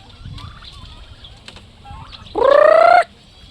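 Young turkeys, three to four months old, on a farm: soft scattered clucks and peeps, then one loud, close gobbling burst lasting under a second near the end, with no talk.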